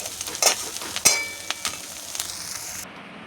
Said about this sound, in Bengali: নিম পাতাটাকে ভাজা বসিয়ে দিলাম